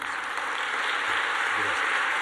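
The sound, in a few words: audience applauding the doctor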